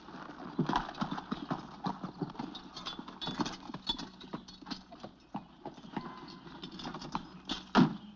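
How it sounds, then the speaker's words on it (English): A horse-drawn carriage carrying two men in a Western drama, hooves clip-clopping in a brisk, steady rhythm close by, with a sharp knock near the end. "2 men riding in that carriage, Morgan and Donovan."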